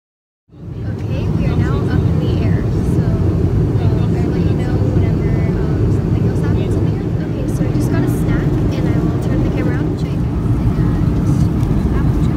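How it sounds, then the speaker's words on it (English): A passenger airplane takes off, heard from inside the cabin: a loud, continuous jet engine roar builds quickly and holds steady, deep rumbling close by, with faint voices and cabin sounds underneath. "we just boarded the plane, and now we're about to go in the air"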